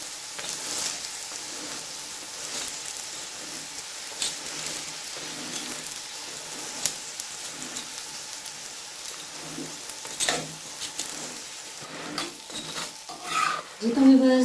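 A mooli paratha fries on its second side in a pan, with a soft, steady sizzle broken by irregular scraping and tapping bursts, growing livelier toward the end.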